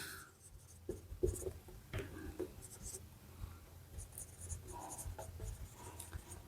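Chalk or marker strokes on a classroom board make short scratchy taps and squeaks in quiet, irregular bursts, with a voice speaking softly now and then.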